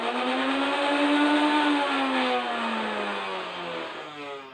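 Nerf Ultra AMP blaster flywheels spin up with a rising electric whine that holds steady, then slowly winds down, close and fairly loud with no talking.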